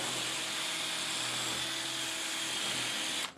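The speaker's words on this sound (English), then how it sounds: "So you just kind of bore it out by moving the angle of your drill." A power drill whines steadily as it bores out a hole in a lacrosse pocket, a continuous high, close, uniform grind that cuts off abruptly at the end.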